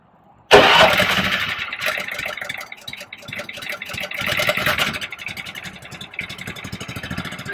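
The engine of a BOSS VSI snowplow spreader cranks and catches with a sudden loud start, then settles into a steady, busy running rattle close by. There is no talk.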